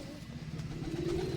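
A close pigeon with a closed tail coos in a low, throaty run that lasts throughout, with a light engine hum in the background.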